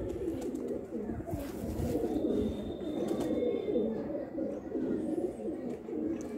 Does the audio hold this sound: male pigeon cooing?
yes